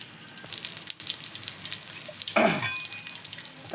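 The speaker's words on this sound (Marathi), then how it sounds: "हे बघा अशा 4 मिरच्या अशा आपण तळून घ्यायच्या" Stuffed green chillies fry in hot oil with a steady, fairly quiet sizzle, and a brief louder crackle bursts up partway through, with no talking.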